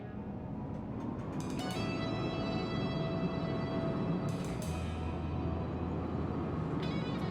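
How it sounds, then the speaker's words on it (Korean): A tram in the city-building game Cities: Skylines II rolls along with a soft, continuous low rumble and faint high wheel squeals that come and go, heard from a moderate distance with no talking. "지금 이 트램 노선을 처음 굴려보고 있는데 지금 이게 아주 한가할 시기이기 때문에 아주 널널하게 잘 돌아다닙니다."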